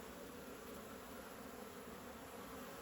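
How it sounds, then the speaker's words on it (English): Honey bees flying around outdoors in winter make a faint, continuous buzzing drone, steady and distant, amid soft background hiss. "the bees are flying around me a little bit on this side"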